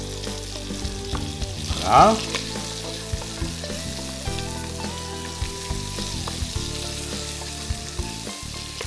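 Rabbit offal and shallots fry in a pan with a continuous close crackling sizzle, a brief louder scrape around the middle and a short word spoken over it.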